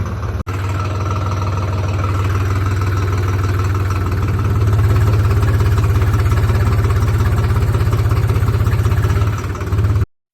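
A tractor engine runs steadily, a loud low throbbing idle that holds constant for about ten seconds, rising slightly midway before cutting off abruptly at the end, with no voices.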